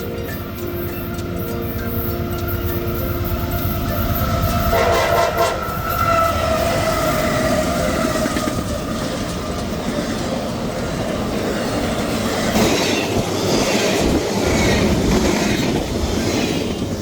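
CSX freight train led by a pair of AC44 locomotives passing close by, with a long horn blast at the start, then a continuous loud roar of rolling wheels, rhythmic rail clatter and occasional squeal.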